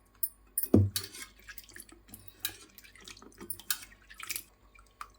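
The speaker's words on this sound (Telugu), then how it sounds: "ఇప్పుడైతే గిన్నెలో వాటర్ తీసుకుని ఈ వాటర్లో అయితే వేసేసుకోవాలి" Cut coconut pieces drop into a bowl of water in a home kitchen, giving a few close, light splashes and drips over quiet background.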